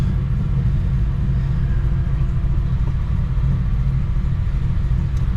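A VRS car making a third-gear pull on a dyno gives off a loud, steady, deep engine rumble, close and continuous throughout with no break or gear change.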